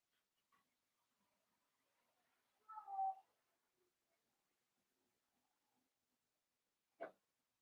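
A house cat meows once in a quiet room, a short mid-pitched call, then a brief faint thump or click a few seconds later; no one speaks.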